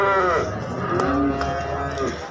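Cattle moo at the Kuranggareng cattle market in Magetan, one long drawn-out nearby low with shifting pitch over a busy background.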